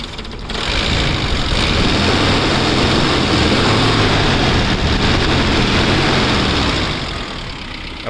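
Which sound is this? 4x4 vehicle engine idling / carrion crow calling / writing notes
4x4 vehicle engine idling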